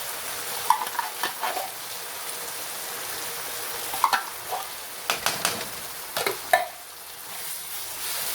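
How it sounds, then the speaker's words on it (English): A taco pasta mixture with tomato sauce and diced tomatoes is stirred in a pan, gentle sizzling under repeated soft scrapes and clinks of the spoon, close and fairly quiet. "Mix that all in."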